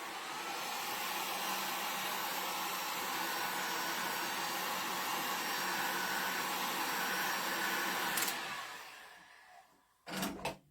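A hair dryer blows steadily and loudly on fresh paint pen lettering on a summer popsicle door hanger, a broad constant whoosh for about eight seconds before it cuts off, followed by a short burst near the end.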